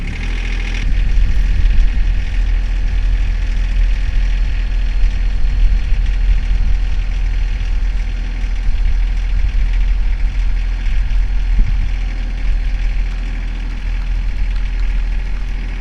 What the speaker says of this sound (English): I haven't used the tractor to pull like this before